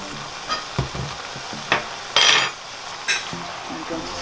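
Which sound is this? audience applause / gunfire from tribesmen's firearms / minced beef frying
minced beef frying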